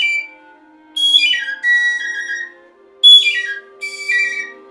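Four clear, airy whistled phrases from a tin bird whistle imitating a hermit thrush, each sliding downward through bright fluting tones, separated by short pauses over a faint steady hum.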